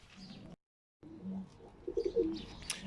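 A young male bird coos in an aviary, several short soft coos close by amid faint background rustle and a brief dropout.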